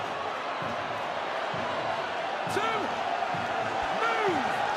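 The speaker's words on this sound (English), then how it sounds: "And again the crowd lifts." A rugby league crowd at a Challenge Cup semi-final between Hull KR and Wigan roars steadily in a large stadium, swelling slightly toward the end as a commentator talks over it.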